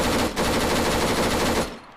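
Rapid, continuous machine gun fire from the ArmA 3 video game, a tight two-second burst that cuts off abruptly.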